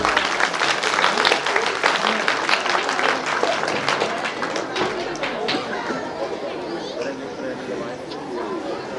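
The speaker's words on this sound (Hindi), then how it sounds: "जोरदार तालियां" Dense applause from an audience at a school annual function mixed with crowd chatter, loud at first and slowly tapering off over several seconds.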